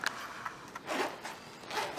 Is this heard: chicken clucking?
no